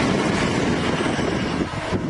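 A passing train rumbles loudly and steadily close by, a broad roar that drowns out everything else for a couple of seconds.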